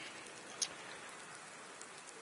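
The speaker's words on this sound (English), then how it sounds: "here we go, that's raining already." Steady rain in the racing game Project Cars 2 during a wet GT3 race at Brno, a soft continuous hiss of falling drops with one brief brighter tick, heard alone without talk.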